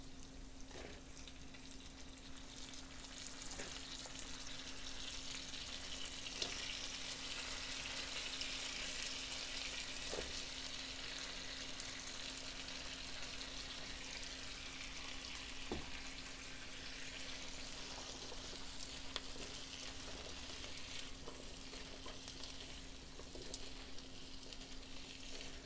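Peeled, chopped potatoes fry with onions and tempered spices in a pan for South Indian spiced potato, giving a continuous, fairly quiet frying hiss with a few faint clicks from stirring, and no talking.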